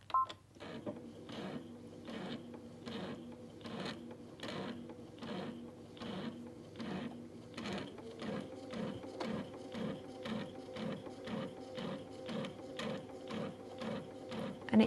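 A Brother sewing machine fitted with a dual feed foot straight-stitches through a quilt, its needle thumping in a steady, even rhythm of repeated mechanical beats that runs alone at close range without a break.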